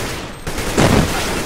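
Gunfire in Counter-Strike: Global Offensive, a short loud burst of shots landing in quick succession, close and punchy, with no talk over it.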